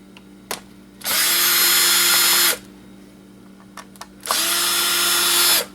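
A power screwdriver backs screws out of an old laptop in two sustained whirring bursts of about a second and a half each, loud and close, with faint clicks and handling noises between them.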